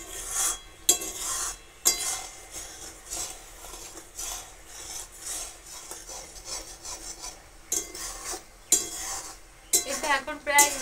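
A spoon scraping and stirring homemade tomato sauce in a pot, rough repeated rasping strokes in an uneven rhythm, close and moderately loud with brief pauses between passes.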